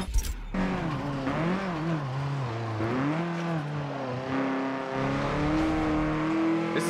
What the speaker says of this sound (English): Tire squeal means slow times